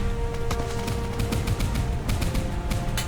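Machine guns on a plywood PT boat in a naval combat video game fire rapid, continuous bursts of sharp cracks over a constant engine drone, loud and close, with no talking.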